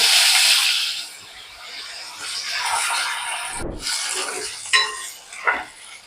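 Chopped potato pieces go into a pan with hot oil, cumin and turmeric. A sizzle flares and fades, then a utensil stirs and scrapes them a few times, up close with no speech.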